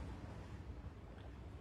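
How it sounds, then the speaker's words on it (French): Gentle sea waves wash in a soft, continuous rush of surf, with a faint breezy hiss and no voices, forming a steady, calm background. "je vais essayer de ne pas parler trop fort pour que vous puissiez vous nourrir de ce bruit des vagues"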